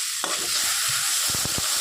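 Boiled broad bean seeds frying with spices in a pan, a constant hissing sizzle with several quick scraping stirs near the end.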